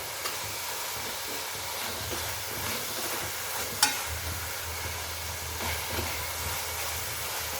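Beetroot halwa being stirred in a pan with a spoonful of ghee added, giving a steady soft sizzle and scraping hiss throughout, with one brief sharp clink midway.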